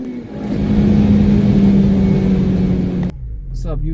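An 8th generation Honda Civic Si engine accelerating at night, a loud rising interior drone with strong rumble that cuts off abruptly near the end, heard from inside the car.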